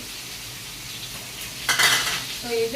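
Cashews and poppy seeds fry in a pan at home with a soft, steady sizzle. A sharper burst of stirring scrapes comes midway, and a short spoken phrase is heard.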